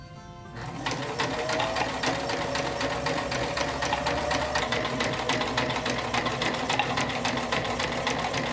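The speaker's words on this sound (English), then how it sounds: "I'm gonna take this to the sewing machine and sew it up" A sewing machine stitches a T-shirt into a sweater, running in a steady rapid chatter that starts after a brief quiet moment and continues without pause at close range.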